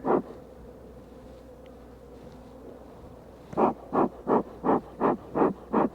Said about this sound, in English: So what we're doing is we're feeding these bees.